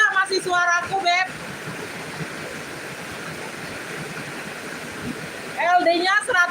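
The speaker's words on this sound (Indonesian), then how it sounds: "Hujannya deras banget Bunda." Heavy rain pours in a steady, dense hiss that fills the space, with a person talking briefly before and after the downpour dominates.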